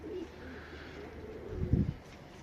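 A smoky-coloured Dumanlı pigeon gives a single soft, low coo close by, over a quiet background.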